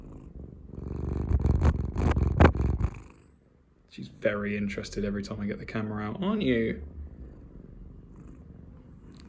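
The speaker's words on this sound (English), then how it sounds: "Listen to that purr." A cat purrs close up in a low, steady rumble while someone talks over it; the purring continues alone afterward.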